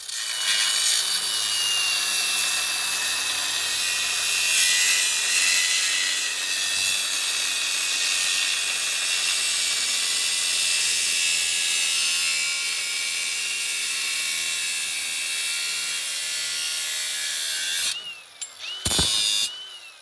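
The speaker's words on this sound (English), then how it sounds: "he's just gonna come in here and take the grinder, clean this off, round these edges off" An angle grinder works steadily on a brake caliper bracket for an El Camino's Wilwood brake overhaul, rounding off its edges: a continuous loud, harsh abrasive whine that holds for most of the clip and drops away abruptly near the end.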